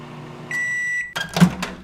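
A microwave oven reheating a McDonald's McGriddle lets out one long steady beep, then a door clunks open and there is some clattering handling, all close up.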